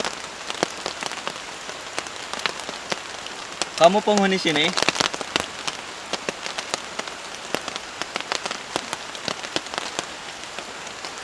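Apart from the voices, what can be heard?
heavy rain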